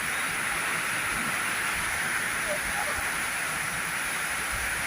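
Heavy rain pours down in Bulacan during an orange rainfall warning, a dense, steady hiss that stays constant throughout with no distinct drops or breaks.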